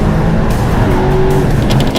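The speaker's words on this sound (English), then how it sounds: "2021 RS6 custom downpipes made in-house and a full custom exhaust all the way back" A 2021 Audi RS6 with custom in-house downpipes and a full custom exhaust roars past up close, a loud, dense, rumbling blast of engine and exhaust noise with crackling bursts near the end.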